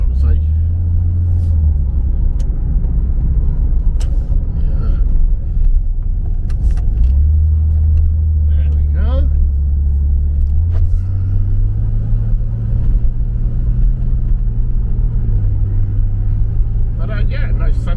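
An old car drives along a road on an early morning in Normandy, its engine rumbling low and steady in the cabin, rising and shifting as it goes, with someone talking over it.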